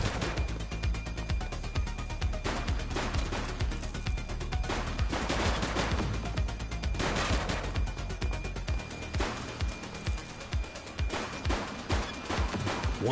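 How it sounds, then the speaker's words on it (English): Gunfire in the police video game The Precinct comes as loud, continuous bursts of rapid automatic shots layered with heavy booms and rumble that fill the stretch without pause. "Shots fired!"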